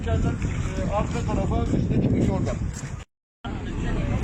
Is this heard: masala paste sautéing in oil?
no